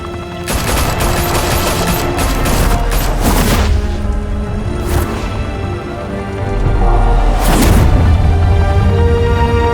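Heavy gunfire erupts in a Batman: The Telltale Series action scene, loud automatic bursts and booming shots clustered in several volleys over a constant rumbling background.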